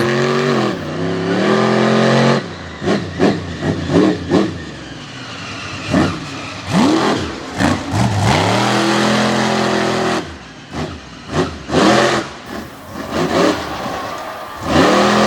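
Loud race car engines roar and rev on a dirt track at a Front Royal North vs South event, repeated throttle bursts rising and falling with cars passing, filling the whole stretch without talk.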